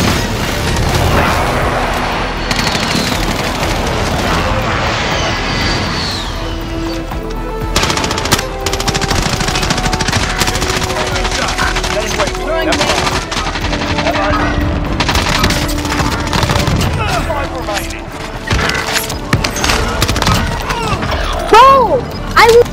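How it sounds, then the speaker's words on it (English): Precision airstrike in Call of Duty: Modern Warfare, with loud rolling blasts and rapid machine-gun-like bursts filling the scene, continuous heavy combat noise, and a faint voice partly buried beneath the din. "Friendly precision airstrike inbound."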